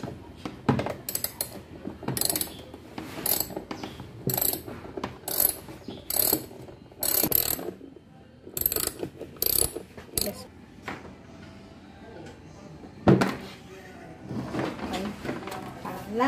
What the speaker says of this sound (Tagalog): Yan, number 10 na socket wrench.